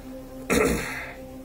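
A single short, harsh cough or throat-clear bursts out close to the microphone, then fades quickly against a faint background hum.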